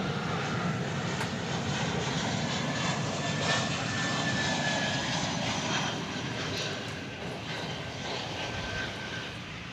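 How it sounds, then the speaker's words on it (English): An American Airlines Airbus A319, a 23-year-old jet arriving from San Luis Potosí, Mexico, passes at DFW Airport with a continuous broad engine roar, moderately distant and steady throughout. "we are about to see flight 1097 American Airlines. It's an Airbus"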